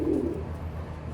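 A Jansen-strain racing pigeon lets out one short, low coo up close, followed by a quiet room hum.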